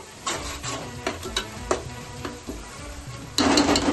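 Ingredients for chicken biryani frying in a pan, with soft sizzling under irregular stirring scrapes and clinks of a utensil against the pot, growing louder and busier near the end.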